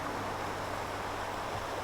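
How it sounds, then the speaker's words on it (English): Waterfall rushing through a small canyon in Snowdonia, a loud, steady broadband roar of falling water, close and continuous with no voices. "This waterfall coming through this kind of like a little bit of a canyon."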